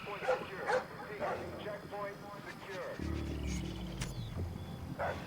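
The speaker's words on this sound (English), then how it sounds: "Where is this dog?" A dog barks in the Splinter Cell Blacklist video game, with several short barks and yips at moderate distance over game ambience and music, while someone talks over part of it.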